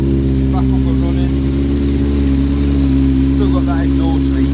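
A Yamaha XJ600 motorcycle with an exhaust leak runs at a steady idle close by, its even, throbbing engine hum constant throughout while a voice murmurs faintly above it.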